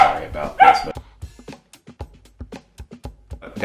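Kingston, a dog, barks in a quick run of short, sharp yips and woofs that come in irregular bursts, close and fairly loud, after a brief stretch of louder noise at the start.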